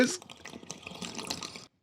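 Wet, watery slurping from a film scene plays at moderate level for under two seconds, then cuts off abruptly.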